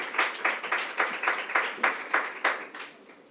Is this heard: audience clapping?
yes